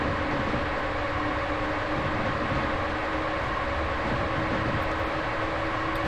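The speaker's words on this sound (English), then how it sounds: "I do hear another train" A train rolls past in the Transport Fever video game, a steady rumbling wash of rail noise with a faint hum, continuous and moderately loud with no talk over it.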